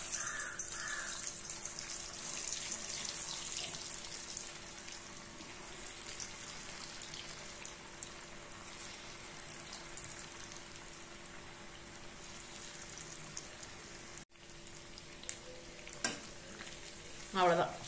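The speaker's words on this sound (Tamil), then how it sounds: "அடுத்தது நம்ம பெரட்டி வச்ச சிக்கனை பொறிச்சு எடுத்துக்கலாம்" Marinated chicken frying in hot oil in a home kitchen, a steady close sizzle running throughout, with a few clinks and stirring sounds near the end.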